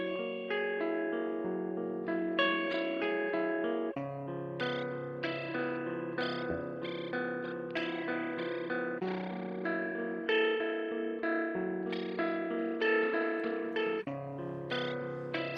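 Guitar mix with the Motor rotor effect on iOS turned down, leaving a chirping, warbling texture behind the original tone: a steady stream of shifting notes at moderate level, no talking over it.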